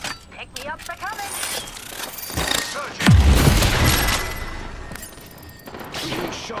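Bursts of gunfire and impacts in Apex Legends, with a heavy close boom near the middle and scattered shots and crackle before and after, while a voice talks over the action.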